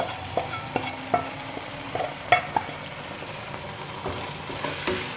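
Ground turmeric, garam masala and pepper powder frying in a pan for chicken curry, a steady soft sizzle under intermittent clinks and scrapes of stirring, with no voices.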